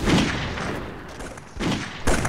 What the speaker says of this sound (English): Alright, they're getting shelled the now.